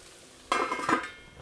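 A pan of jammy ragu ingredients frying and caramelizing on the stove, with a sudden burst of sizzling and stirring scrapes that rises sharply, holds for about half a second, then tapers off.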